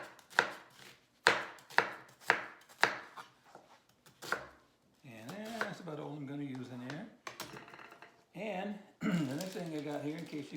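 Knife dicing onion on a cutting board for collard greens, with several sharp rhythmic chops that give way to someone talking over lighter cutting sounds.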